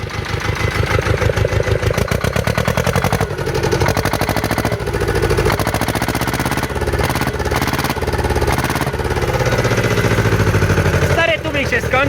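Loud, steady Ursus tractor engine chugging through a homemade muffler with a rough, rasping exhaust note, running continuously throughout with slight shifts in tone.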